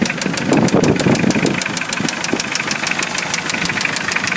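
Close, loud idle of a Mitsubishi 4D56T turbo diesel, with a sharp, regular knocking clatter beating evenly over the rumbling engine.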